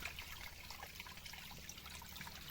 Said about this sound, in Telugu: బయటకు వెళ్ళిపోతుంది అనమాట ఈ వాటర్